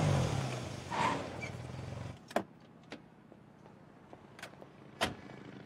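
A new Range Rover rolls up with a low engine rumble, then goes quiet apart from several sharp clicks and thumps of doors and fittings.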